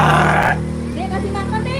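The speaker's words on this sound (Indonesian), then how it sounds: "Suaranya aja mbek-mbek ya" A goat gives a loud, nasal bleat up close, a harsh quavering cry at the start that fades into quieter grunting sounds while people talk nearby.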